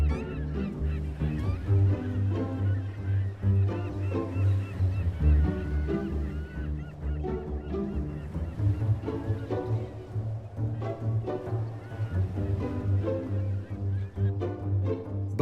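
A breeding colony of some ten thousand pelicans on an inland lake fills the air with a dense, continuous chorus of low honking calls, many birds overlapping nearby and farther off.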